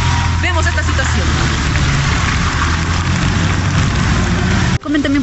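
Rain falling on a city street during a heavy downpour, a steady broadband hiss with traffic rumbling underneath, while voices talk over it and a brief break near the end.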